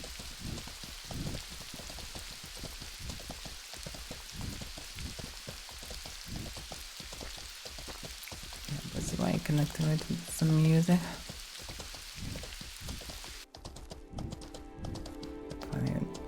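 Steady rain falling in the fantasy game Mortal Online 2, a continuous hiss on surfaces that runs beneath someone talking and brief music, before the rain stops.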